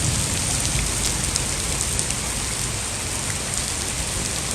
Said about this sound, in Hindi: बारिश काफ़ी अभी भी ज़्यादा हो रही है